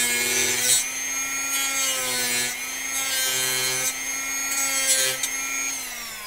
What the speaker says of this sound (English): Let's come in with the Dremel. I need to level this a little bit.